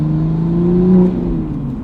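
Manual Toyota Supra fitted with a Clutchmaster FX1000 clutch, engine humming steadily while driving with a slight swell in revs midway, heard from inside the car, close and fairly loud, with no talking.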